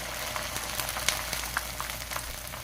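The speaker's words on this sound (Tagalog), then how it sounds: "Iprito na po natin." Ampalaya and malunggay crackers deep-frying in hot oil over medium heat, a steady, fairly quiet crackling sizzle with scattered pops throughout and no talk.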